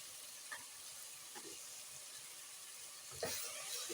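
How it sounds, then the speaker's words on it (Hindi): Chicken pieces fry in a pan, giving a faint, steady sizzle and hiss. A few soft stirring knocks come through, and a slightly louder burst arrives near the end, with no speech. "अच्छी तरह ये फ्राई हो रही है।"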